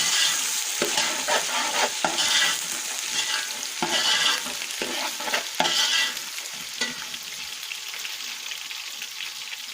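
Chopped onion with ginger-garlic paste frying in hot oil while being stirred, a steady close sizzle broken by repeated scraping stir strokes, with no one talking.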